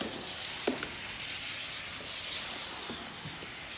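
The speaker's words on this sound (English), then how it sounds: "it's way easier to use than any steam cleaner I have ever used in the past" A COSTWAY multipurpose heavy-duty household steam cleaner hisses steadily while cleaning floors, a continuous soft rushing with a couple of faint clicks, no talking.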